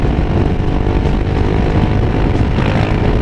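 A Yamaha XMAX 250 scooter fitted with an aftermarket smoke muffler exhaust, a loud, dense, raspy engine roar held steady for a few seconds, close by with no talk.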